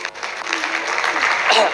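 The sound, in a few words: applause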